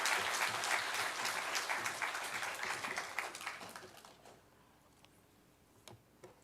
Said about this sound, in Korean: 박수로 한번 환영해 주십시오